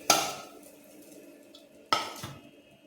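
A sprouted green gram dosa is flipped on a pan with a spatula, making two sharp metallic scrapes about two seconds apart over a soft background sizzle.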